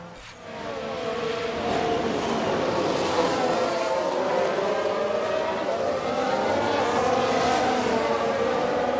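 Race cars scream past in F1 Manager 22, several engines whining and sweeping in pitch as they pass, a continuous, fairly distant high roar after a brief quiet start.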